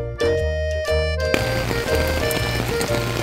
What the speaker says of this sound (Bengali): ঘুম থেকে উঠে দেখি ঝুম বৃষ্টি